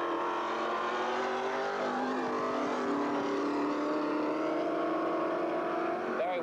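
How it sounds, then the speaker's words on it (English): Loud, continuous roar of powerful drag racing engines, a 308 Holden and a 351 Falcon launching down the strip, steady and sustained, with a rising, droning engine note throughout. "Barry Weber in the 308 Holden leaving Michael Pepper in the 351 Falcon for dead."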